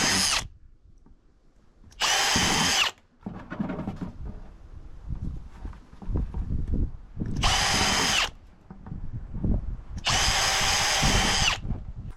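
A power drill whirs in four loud bursts of roughly a second each, separated by quieter rustling and handling noises.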